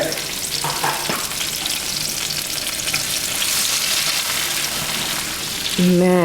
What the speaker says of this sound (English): Now I'm gonna saute my vegetables